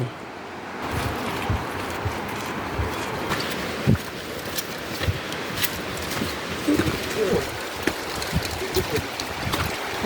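Continuous rushing water from Duduma waterfall in Koraput forms a dense, hissing roar in the background, while people talk intermittently and occasional wind bumps hit the microphone.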